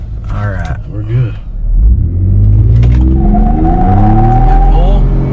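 A Ford F150 on Nitto NT420V tires launches hard with slight wheel spin, the engine rumbling and revving loudly up through a rising pull, close and dominant, with a voice talking over the start.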